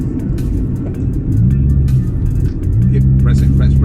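A 1994 Honda Integra ZXi engine pulling hard while driving, its loud drone rising in pitch through the gears with a brief dip at a shift, heard from inside the car with people talking over it.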